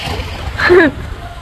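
A brief splash as someone enters cold water at Brighton Beach, with a surge of watery noise lasting under a second amid background voices.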